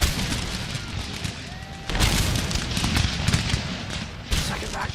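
Massed musket volleys crack out across an Empire: Total War battlefield, a dense wash of gunfire that swells sharply at about two seconds and again near the end, loud and continuous with no speech over it.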